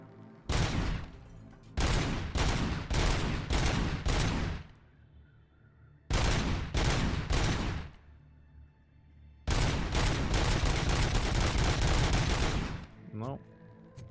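Rapid automatic gunfire in the RoboCop: Rogue City video game, fired in several long sustained bursts separated by short pauses, loud and close, with a few faint single shots near the end.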